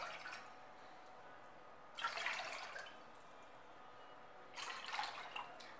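Water poured from a bowl into a pot for cooking macaroni comes in two short splashing bursts separated by a pause, close and fairly quiet, with no talk.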